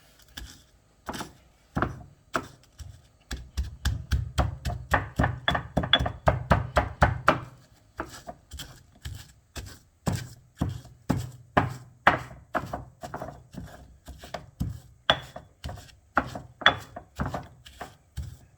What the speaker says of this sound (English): I'm going to add 6 garlic cloves. And I'm going to pound that. It's going to become like a paste.